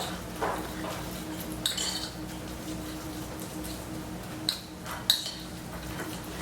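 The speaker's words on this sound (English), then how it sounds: "put in my oregano and parsley and just a smidgen of salt, and I'm just going to mix that in real well." A spoon stirs oregano, parsley and a pinch of salt into creamy garlic spread, giving a few faint, scattered clinks against the bowl over a quiet background.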